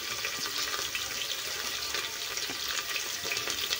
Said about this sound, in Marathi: कांदा छान आपल्याला गुलाबी होईपर्यंत चांगला परतून घ्यायचा आहे